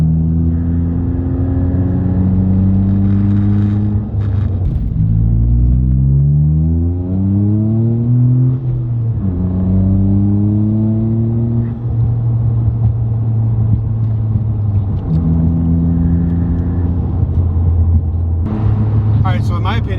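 A Toyota GR Corolla fitted with an AWE Touring Edition exhaust accelerates through several gears, its deep, droning exhaust note loud and close, rising in pitch with each pull and dropping at the shifts.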